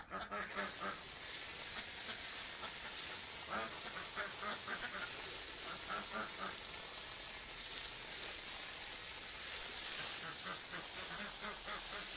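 Ducks quack in repeated short bursts by the water, a steady broadband hiss running underneath throughout.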